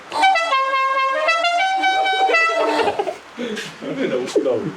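A car horn honks in a series of short and long blasts, loud and close, followed by people talking.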